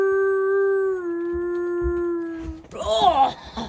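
From the darkness in the woods, a dog lets out a long, mournful howl, steady and clear, which breaks into a warbling flurry of higher cries at the end.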